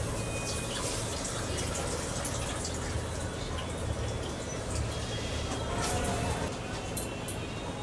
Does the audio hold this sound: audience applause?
no